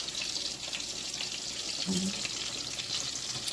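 Large pork chops frying slowly in a pan, a steady close hiss and sizzle throughout with a brief low murmur of a voice partway through.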